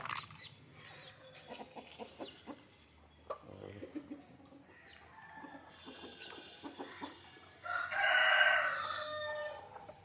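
Country chickens at feeding time with bran give scattered clucks and short calls nearby, then a loud rooster crow rings out near the end.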